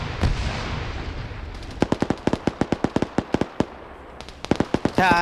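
Video game combat with a muffled blast followed by a rapid, evenly spaced string of sharp gunshot cracks, then a final cluster of shots and a brief voice at the end.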